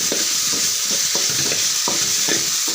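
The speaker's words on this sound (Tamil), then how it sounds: "நல்லா கிளறி விட்டுக்கலாம்." Pasta and egg are stirred in a hot pan, with a steady sizzle underneath and a spoon scraping through the mixture in regular, close strokes about twice a second.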